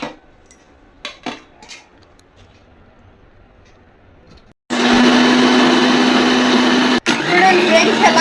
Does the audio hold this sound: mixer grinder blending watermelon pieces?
yes